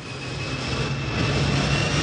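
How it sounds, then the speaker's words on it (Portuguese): An airplane landing in Lisbon roars with a steady, broad engine rumble and whine that swells slightly toward the end, heard alone in an old recording. "Neste avião que acaba de descer em Lisboa"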